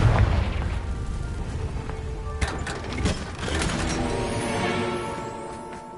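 A Confringo blast spell cast in the game Hogwarts Legacy gives a sharp crackling burst that swells into a rumbling, clattering explosion with a ringing tail. It sounds near and fairly loud.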